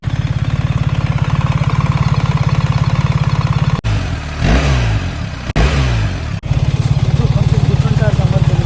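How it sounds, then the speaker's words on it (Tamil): Motorcycle engine running close by, a steady loud throbbing idle with a brief burst of revving in the middle before it settles back to the even pulse. "இன்ஜினோட சவுண்டு உங்களுக்கு பிடிச்சிருக்கா பாருங்கள்."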